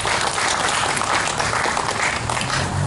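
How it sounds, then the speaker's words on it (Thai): An audience gives sustained applause at a Thai temple gathering, a thick, even roar of many hands clapping close and loud throughout. "ขอเสียงปรบมือด้วยครับ"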